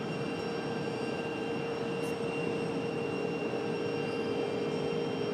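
A Delta jet takes off from runway 23 right at Raleigh-Durham airport, its engines making a steady, broad roar that holds level throughout with a faint high whine above it.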